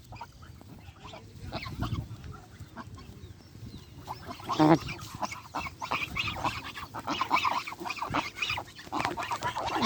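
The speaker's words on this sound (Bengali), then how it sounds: "দেখতে পাচ্ছেন কত সুন্দর সাদা ধবধবে হাঁস" White geese honk repeatedly at close range, loud nasal calls overlapping in an irregular, noisy flock chorus.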